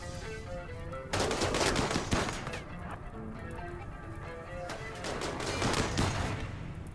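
Dense, sustained automatic gunfire from a wave-defence battle in the video game RimWorld, loud rapid bursts of many overlapping shots running nearly continuously with a brief lull, no voices.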